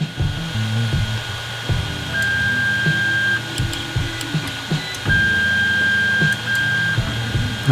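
A 3D printer auto-homes its motors, giving stepper whines and buzzes that start and stop in uneven bursts along with a sustained tonal hum, all close and moderately loud.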